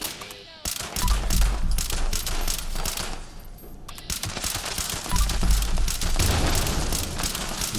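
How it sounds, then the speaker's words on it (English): Enemy gunfire in Fallout 76, dense automatic bursts and rapid shots crackling nearly nonstop, with heavy booming thuds underneath and a short lull midway. "I now have numerous things shooting at me"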